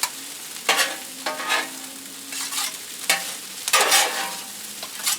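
Egg fried rice stir-fried in a hot pan with two long spatulas: steady sizzling broken by repeated scraping, clattering strokes at an uneven rhythm, close and fairly loud.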